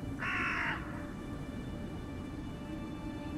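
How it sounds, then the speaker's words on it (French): A single harsh crow caw sounds from a moderate distance, brief and clear, followed by quiet ambient hiss with no voices. "Les corbeaux continuent, enfin les engoulements continuent à croisser autour de toi"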